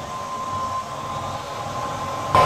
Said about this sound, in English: The sound you hear is the sound of fuel going from the truck through the hose into the piping in the airplane